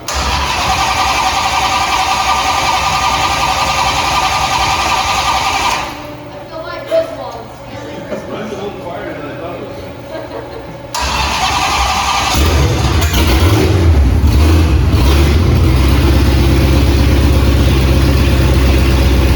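A freshly finished hot rod Savoy cranks and fires up loudly at close range, then drops back to a rougher, quieter stretch before roaring into a strong, steady run with throttle blips. Voices may be mixed in with the engine.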